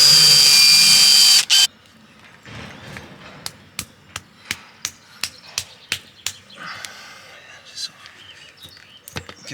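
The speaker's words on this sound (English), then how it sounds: "So we've got to drill the hole to make it a bit better for the tubes to go into." A hole being drilled into a tyre for tubes to pass through: after a short burst of high whine, a series of sharp, evenly spaced clicks and knocks taps out a steady rhythm close by against a quiet background.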